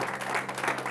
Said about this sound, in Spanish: Yo a usted le diera otro aplauso a Jesús.